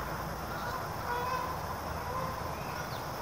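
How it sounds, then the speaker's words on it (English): Geese honking at a distance over steady broadband background noise, with a few faint calls rising briefly above the hiss. "geese."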